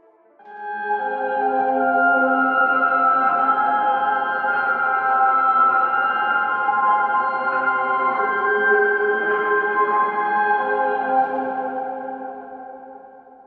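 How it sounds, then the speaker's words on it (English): A sample loop run through a Valhalla VintageVerb reverb on its dirty hall setting, with sustained tonal layers smeared into a continuous wash that swells in and holds steady before fading near the end. "We can also add a reverb for effect like this Valhalla VintageVerb. We'll go with the dirty hall setting."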